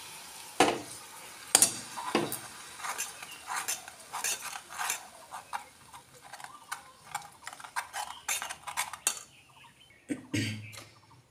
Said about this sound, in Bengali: এবার চিনিটা ক্যারামেল করে এর মধ্যে অল্প অল্প গরম দুধ দেব